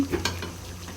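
Chicken gizzard and liver are stirred and fried in a pan, a brief close scrape of a spoon over a soft steady sizzle.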